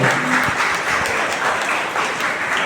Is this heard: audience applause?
yes